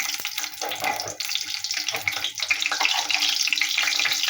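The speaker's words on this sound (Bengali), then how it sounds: "তেলের মধ্যে একটু লঙ্কা দিলাম" Dried chili hits hot oil in a wok, raising a bright, hissing sizzle that swells and stays loud and close, with faint clatter in the background.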